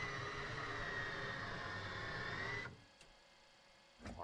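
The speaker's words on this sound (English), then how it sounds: "We'll get our canopy closed." An aircraft canopy closing inside a DCS flight simulator cockpit: a steady electric motor whine with a rising tone runs for a few seconds under engine hum, then stops with a soft clunk into quieter cockpit background.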